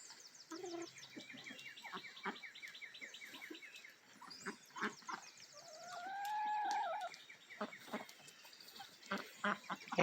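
Ducks quack and chatter outdoors in the rain, with scattered close calls and squawks over a faint, soft background hiss.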